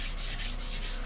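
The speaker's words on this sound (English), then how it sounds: "So I'm just going to sanding block this side." A sanding block rubs along a hand-forged langseax blade, making close, rhythmic back-and-forth rasping strokes, about five in a second, each with a brief pause between passes.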